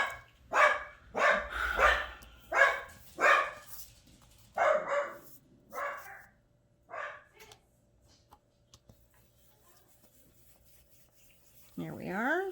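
Dogs bark indoors in a quick run of about ten loud, close yaps over the first seven seconds, then trail off into near silence before a final whine-like yelp at the end.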